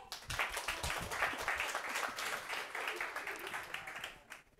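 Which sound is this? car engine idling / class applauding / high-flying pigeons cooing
class applauding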